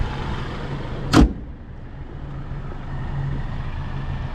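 A 2022 Mercedes-Benz E 350 sedan door shuts with a single solid thump, close by, over a low steady engine idle hum.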